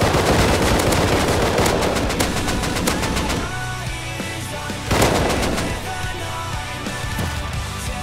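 Gunfire in the Rust video game from bolt-action rifles and other weapons, dense bursts of rapid loud shots, then a pause and a second heavy volley.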